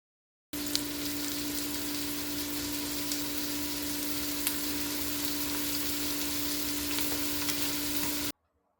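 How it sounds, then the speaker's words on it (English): Onion sautéing in a pot for a plant-based minestrone sizzles steadily and evenly for several seconds under a faint constant hum, with scattered small crackles and no voices. "I saute the onion until softened and translucent, about 4-5 minutes."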